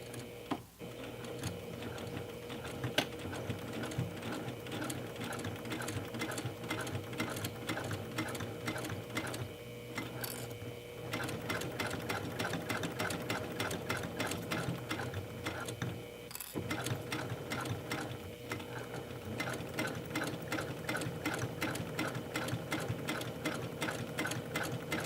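A sewing machine runs steadily while sewing the lining of a makeup bag, a fast continuous mechanical stitching rhythm with one or two brief pauses and no talk.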